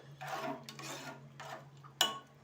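A spoon stirs spices into boiled water in a pot for papad dough, giving soft rubbing swishes in a few strokes, then one sharp clink against the rim, with a low steady hum behind.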